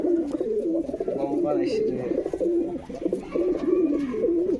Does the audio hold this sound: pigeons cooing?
yes